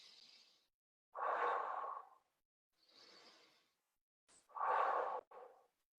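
Deep breaths during a rib-focused breathing exercise, hands wrapped around the lower ribs: a soft intake, then two fuller, louder exhalations separated by pauses, close and with no talking.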